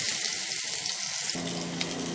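Sliced onions and green chilies sizzle in hot oil, a bright, close frying hiss that shifts in texture partway through as the pan settles, with no talking.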